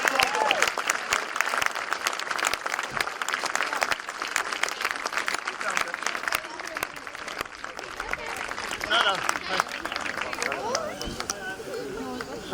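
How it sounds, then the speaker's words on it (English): Rally presentation crowd applauding the winning crews at the Mull Rally 2019 prize-giving, a steady sustained wash of clapping from many hands, with scattered crowd chatter underneath. "Give them all a big round of applause before we start this"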